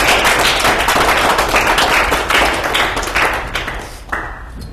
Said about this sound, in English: Would y'all please clap?